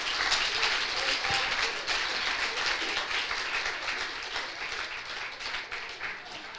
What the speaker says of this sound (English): Absolutely, give yourself a round of applause.